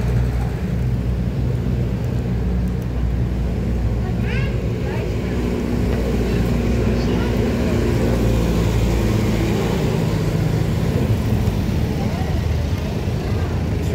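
Busy Davao City street traffic at the Bonifacio corner, with a continuous roar of engines and passing vehicles, a steady dense wash of motor noise, and faint voices in the background.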